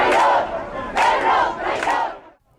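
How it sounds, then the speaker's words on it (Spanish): Residents upset by the migration crisis in Ceuta and Melilla shout and boo at Pedro Sánchez, with three loud, surging crowd chants rising and falling close by before cutting off. "Los residentes afectados por la crisis migratoria lo recibieron con gritos de Pedro traidor y fuera Sánchez"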